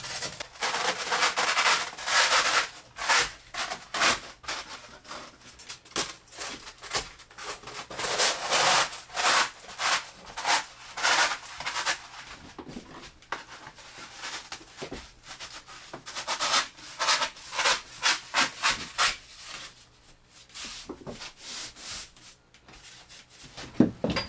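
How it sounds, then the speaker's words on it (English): Foam board insulation is pushed and squeezed into a wall cavity, giving close, irregular squeaks, scrapes and rubbing scrunches in repeated bursts. No one talks. "I cut some foam board insulation and I'm going to be putting it in the wall."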